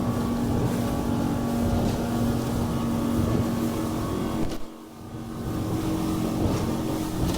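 A Yamarin motor boat's engine drones steadily under a rush of water and wind as the boat turns to starboard, with a short dip in the noise partway through the turn.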